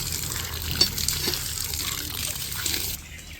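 Water gushes steadily from a motor pump at a village home, a continuous close hiss with a faint knock near the start, ending with a sudden drop in level.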